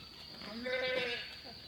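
A single wavering bleat from a sheep, fairly close, rising and falling over about a second against a steady background hiss.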